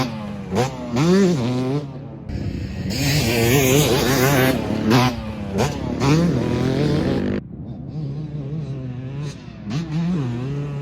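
A 2025 Yamaha YZ250 two-stroke motocross bike rides around the Toutle Motorsports track, its engine revving up and down in repeated rising bursts between gear changes, heard from trackside at moderate distance.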